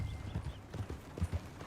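Horse hooves clip-clopping on the ground in Red Dead Redemption 2, a soft, uneven series of muffled thuds at a walking pace, fairly quiet and alone.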